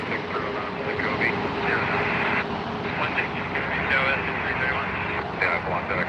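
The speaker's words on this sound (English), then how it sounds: "Listen to those engines." Large airliner engines at LAX airport, a broad, sustained roar that stays steady and fairly close throughout, with air traffic radio chatter and a voice talking over it.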